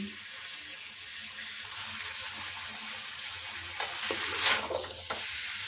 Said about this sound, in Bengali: খুব ভালোভাবে মিশিয়ে নেওয়ার পর চাউমিনগুলো এর মধ্যে দিয়ে দিচ্ছি